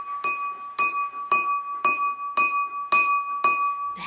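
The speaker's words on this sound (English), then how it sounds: "You could also use a glass to tap" A drinking glass lightly tapped with a fork or spoon, seven evenly spaced bright clinks that each ring out with a clear, sustained pitched tone, close and alone without speech.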